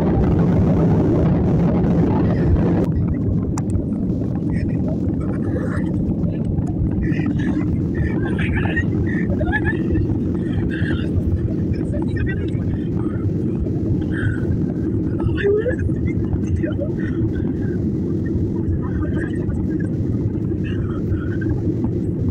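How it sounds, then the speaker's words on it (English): An airliner takes off from runway 19 at Cape Town, heard from inside the cabin as a steady low roar and rumble that holds throughout, with voices talking over it. "We're going to be taking off on runway 19 out of Cape Town."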